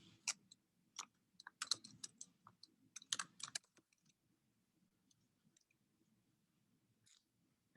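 Fingers tap out bursts of clicks on a computer keyboard, rapid clusters of keystrokes followed by sparse isolated taps and quiet pauses, close and soft in a quiet room.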